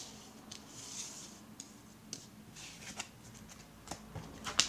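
Tarot cards being handled, drawn and flipped over on a table, a series of soft close papery slides and light ticks spaced irregularly, ending in a sharper snap as a card turns, with no voice.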